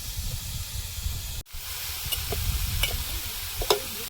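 Prawns and taro stolons with turmeric and salt sizzle in a pan, a steady hiss broken by a brief gap and sharp clinks of stirring.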